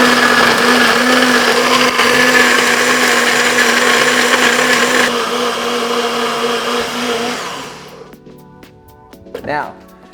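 A loud blender crushing ice for a mango daiquiri roars and grinds steadily, then winds down and stops, leaving a brief rattle and a faint clunk at the end.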